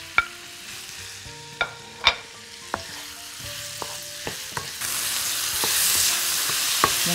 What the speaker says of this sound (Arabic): هنجيب الفراخ والفلفل على طول كده نحطهم